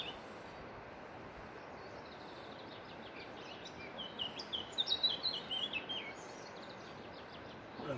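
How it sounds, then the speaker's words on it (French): Small birds chirp and sing outdoors, faint and somewhat distant, with scattered high calls clustering toward the second half over a steady background hiss. "mais il y a des oiseaux qui chantent là, qui sont super contents."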